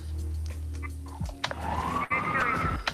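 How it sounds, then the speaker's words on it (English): A police siren wails with a rising tone over a mix of engine rumble and scattered clicks and thumps, moderately loud. "One is the police sirens and the radio communication."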